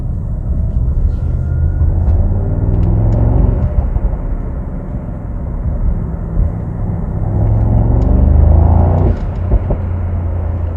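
A 2022 Mercedes SL 63 AMG driven through the city at night, its engine a steady low rumble inside the cabin with mild swells as it pulls along, no talking.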